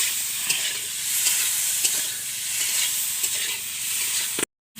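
Paneer frying lightly in a pan with salt and turmeric, steady close sizzle with occasional stirring scrapes, ending abruptly.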